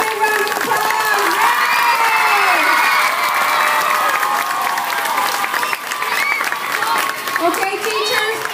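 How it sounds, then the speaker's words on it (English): Elementary school students at a school assembly clap, cheer and shout together in a loud, echoing crowd roar of high children's voices that keeps going without a break. "Let's give them a big round of applause."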